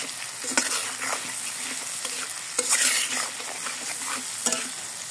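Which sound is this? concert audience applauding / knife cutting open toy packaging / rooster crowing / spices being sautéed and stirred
spices being sautéed and stirred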